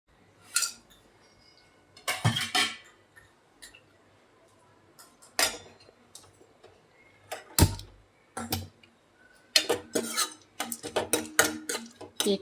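Dry fruits, including cashews, being stirred in ghee in a pan for sheer khurma: scattered sharp clinks and scrapes of a metal spoon against the pan, irregular and close, growing busier near the end over near silence.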